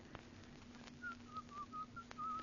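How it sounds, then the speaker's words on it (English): A person whistles the old tune Turkey in the Straw, a short run of thin, clear notes in a bouncy rhythm, faint and somewhat distant over a quiet room hum. "Oh, stop whistling that turkey in the straw."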